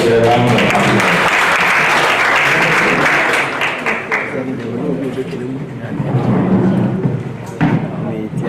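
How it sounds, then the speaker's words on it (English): Audience at a regional FAO-CSIR workshop gives a sustained round of applause, dense clapping filling the room for several seconds, with voices talking over it and the clapping easing off toward the end. "Let's welcome her with a round of applause."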